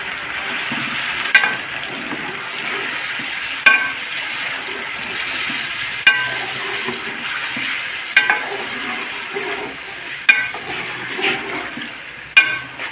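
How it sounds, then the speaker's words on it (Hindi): Onions frying in ghee give a continuous close sizzle, with a spoon or spatula clacking against the pan every couple of seconds as they're stirred. No voices. "और ये भी फ्राई करती हूँ जी प्याज में।"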